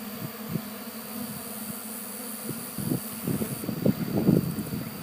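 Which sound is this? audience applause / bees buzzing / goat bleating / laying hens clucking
bees buzzing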